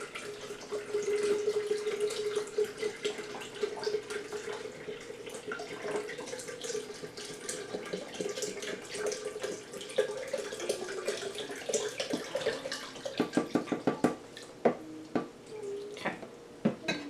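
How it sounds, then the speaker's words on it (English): Chicken stock pouring steadily into a Ninja Foodi cold and hot blender jar for creamy potato soup, a continuous liquid splash that turns into a run of brief clunks and taps toward the end, close and moderately loud. "let's start with our chicken stock. And you can just pour the whole thing in there"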